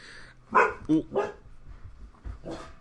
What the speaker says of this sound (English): Barking ensues.